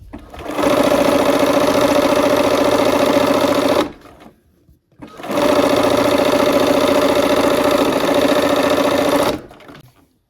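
A sewing machine runs a quilt block seam in two loud, close, steady bursts of motor hum, separated by a brief pause of near silence.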